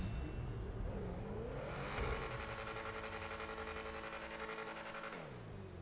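A Ferrari GTO in the GTA 5 game revs steadily, its engine tone rising and holding at a loud, continuous pitch before easing off, with no talk over it.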